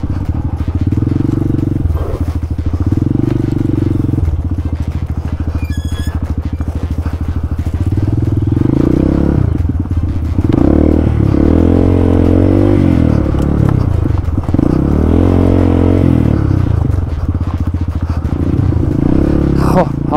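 Engine of a Falat 200 CRF-style dirt bike rides off-road over soft dirt, loud and close, with a low rumble that shifts pitch through throttle changes and occasional thumps and scrapes. A rider's voice speaks over it at times.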